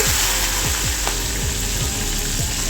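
Crushed garlic and a couple of sprigs of curry leaves fry in hot oil for a pappu charu (lentil soup) tempering, giving a steady close sizzle with soft repeated stirring thumps throughout, no talking.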